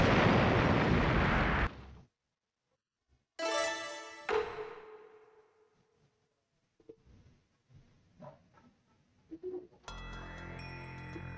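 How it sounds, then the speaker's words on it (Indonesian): An explosion booms in a Naruto video game as a loud roaring burst that cuts off abruptly. Ringing musical tones, scattered hits and a brief spoken line follow. "Meledak deh."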